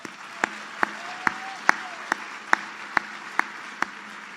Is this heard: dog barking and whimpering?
no